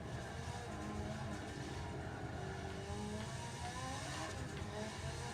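Porsche 911 Leichtbau race car engine at full throttle in Forza Motorsport 7, a loud, sustained revving roar with rising pitch sweeps as gears climb, steady and close throughout.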